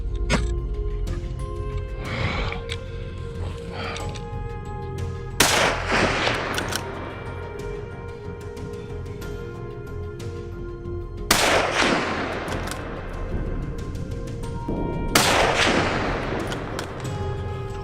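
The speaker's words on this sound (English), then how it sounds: "he fires a second shot at a large one behind it" Loud, close rifle shots during a wild boar hunt, several sharp cracks spaced apart, each followed by a long rolling echo across open countryside, with no speech.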